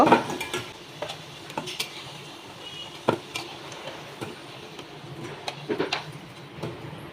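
Fried potato pieces are lifted out of a pan with a utensil, making a series of sharp scrapes and clinks against the pan over a faint sizzle, in irregular close taps.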